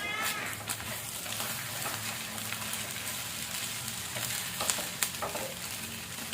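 Pork sisig sizzles in a pan as it is stirred, a constant loud frying hiss with scattered sharp scrapes and clicks from the utensil, and no talk.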